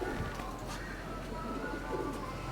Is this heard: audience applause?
no